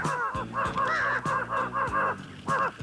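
Crows caw repeatedly, loud and fairly close, while searching for a piece of bread hidden on the ground under a leaf. The harsh calls come in a quick, uneven series of about eight, with no talking.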